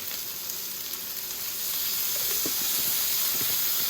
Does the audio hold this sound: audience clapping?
no